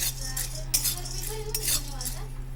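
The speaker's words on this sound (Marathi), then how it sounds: "मीडियम गॅसवर मी ह्याला भाजून घेणार आहे" Roasted chana dal dry-roasts in a pan over medium heat, with a spoon scraping and clinking through the dry lentils in short close bursts over a low steady hum.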